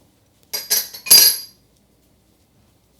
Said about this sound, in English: And I'm going to stir that up.